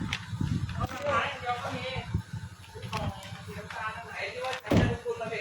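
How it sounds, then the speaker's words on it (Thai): A Honda CR-V car door fitted with new keel-shaped rubber weatherstrip seals is shut with a firm thud, with someone talking over it in a fairly close, live setting. "นี่นะครับเราปิดประตูสนิทนะครับ"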